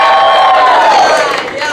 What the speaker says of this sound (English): And then give me a cheer if it's your first time.